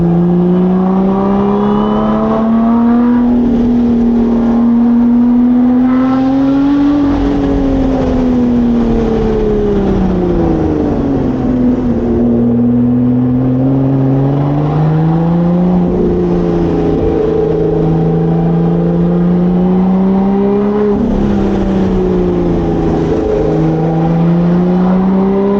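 A Lotus Evora GT engine revs hard toward 7,000 RPM, its loud, sustained note climbing and falling in repeated sweeps with no speech over it.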